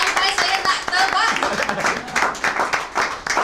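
An audience at a Malaysian roadshow event applauds the MC, a dense, steady wash of clapping close by that runs for a few seconds alongside voices.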